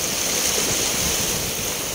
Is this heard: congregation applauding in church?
no